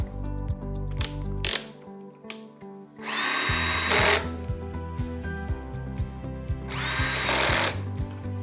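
A powered driver runs screws into the casing of an Air Venturi Nomad II air compressor, with repeated short whirring bursts and ratcheting clicks at close range, separated by brief pauses.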